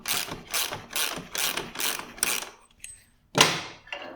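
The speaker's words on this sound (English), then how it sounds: "Next step, loosen off the main nut on the axle." A hand ratchet loosening a motorcycle's main axle nut during chain adjustment: six close, evenly spaced clicking strokes, a pause, then one sharper click.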